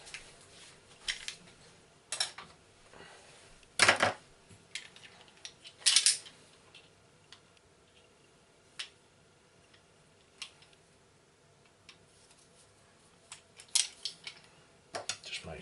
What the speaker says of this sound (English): you can just put them through a crusher